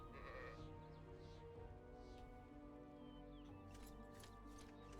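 Sheep bleating in the fantasy video game ArcaniA: Fall of Setariff, several repeated bleats over a steady bed of game ambience and background music, close and clear.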